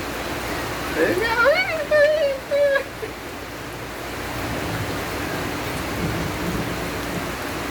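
Steady rain hisses and patters throughout, and a person speaks briefly near the start over the downpour.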